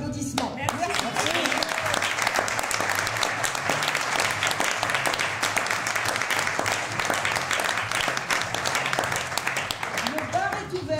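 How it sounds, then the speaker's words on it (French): A theatre audience breaks into warm applause, sustained dense clapping at a loud, even level for about ten seconds, with a voice audible at the start and near the end. "Merci public, vous méritez nos chaleureux applaudissements."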